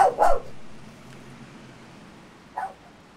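A dog in Resident Evil 4 with the RE HD Project mod gives a short double bark at the start, then a fainter single yelp near the end over a quiet game backdrop.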